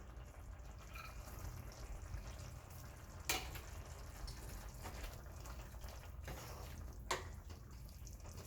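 Vada curry gravy with chopped coriander simmers in a pot, giving a faint, steady bubbling hiss throughout, broken by a couple of soft clicks, with no talking.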